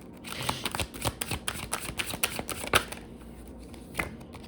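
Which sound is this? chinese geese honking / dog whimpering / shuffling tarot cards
shuffling tarot cards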